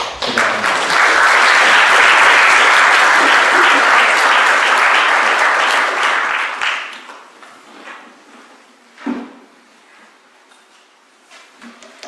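A debate audience bursts into loud, sustained applause to welcome a speaker. It runs steadily for about six seconds, then fades into a few scattered claps and quiet room noise.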